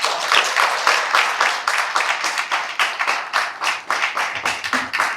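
An audience claps for Kia Wakesho at a Kenyan diaspora welcome event, a dense, steady round of applause that carries on through the whole stretch and eases slightly near the end.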